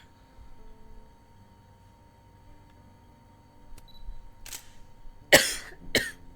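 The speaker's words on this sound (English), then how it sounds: "I'm probably gonna be coughing for a while now" A quiet stretch, then a few sharp coughs close by, the loudest two near the end.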